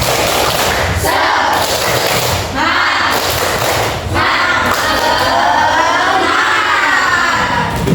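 A class of students performs a rhythmic spirit clap, loud patterned bursts of clapping mixed with shouted chanting voices, the group noise filling the room throughout.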